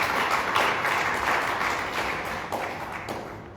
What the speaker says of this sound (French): Mesdames et messieurs, applaudissements l'accompagnent.